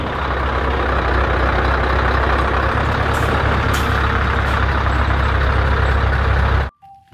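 A long toy container truck makes a loud, continuous truck-engine rumble with a hint of beeping. It runs steadily for nearly seven seconds, then stops sharply, and a brief faint sound follows.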